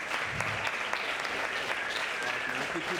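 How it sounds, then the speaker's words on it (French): Audience at a French student talent show applauding a performer, a dense steady burst of clapping that carries on for a few seconds, with a voice faintly audible beneath it. "on peut encore une fois l'applaudir."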